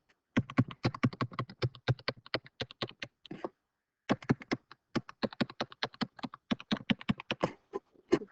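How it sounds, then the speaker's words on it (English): Rapid tapping clicks of a pen against a tablet screen during a precalculus lesson, in two dense bursts of sharp, evenly spaced taps with a short pause between, close and fairly quiet with no talking. "probably hear my pen clicking on the screen here"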